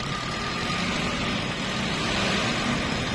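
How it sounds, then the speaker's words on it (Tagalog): Hyundai Stargazer with an engine misfire fault, its engine revving in a steady, loud, close drone with rough low rumble and no voices. "ito na yung nire-rev na ni sir"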